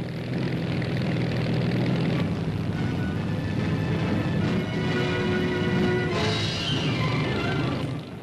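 Steady, droning engine roar of a Lockheed Ventura bomber, an American-built development of the Hudson, in flight, holding a sustained even tone with a faint pitch shift late on.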